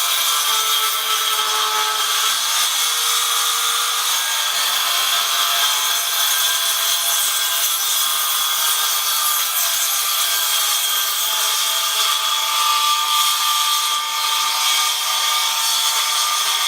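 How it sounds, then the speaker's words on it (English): A power saw rides along a table, cutting wood for custom trim. It gives a continuous, loud, bright rasping whine that holds steady for the whole stretch, with no pauses and no talk. "And I want to have the saw riding on the table as much as possible."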